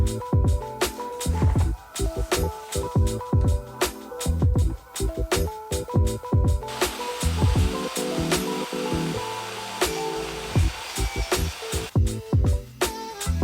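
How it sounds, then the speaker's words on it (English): A saw cuts through the top edge of an IKEA kitchen island cover panel, a loud, steady rasping run with repeated sharp strokes and brief pauses throughout. "I'm just gonna cut the top just that fraction of an inch to make this as close as possible"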